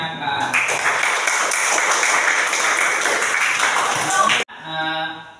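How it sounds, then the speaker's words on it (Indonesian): A classroom of students claps together in a steady, dense burst of applause lasting several seconds, which cuts off abruptly near the end. "Jadi kita ucapkan tepuk tangan bersama."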